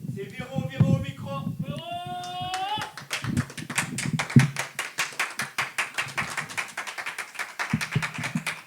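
Audience at a slam poetry night in a Cannes venue breaks into rhythmic clapping as the next poet heads to the stage, a rapid, loud patter that follows a short burst of voices and then continues alone.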